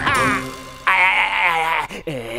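A cartoon goose squawks in a series of loud, strained honking cries, two long calls broken by a short gap, with no talking.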